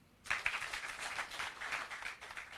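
Audience applause for the prime minister at a state of the nation address in Nakuru, a dense wash of clapping that swells in after a quiet start and holds steady, with crowd noise mixed in throughout.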